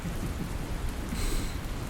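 Steady rain falls through a night-time cemetery, a dense continuous hiss with a low rumble beneath it, constant and close, with no voices.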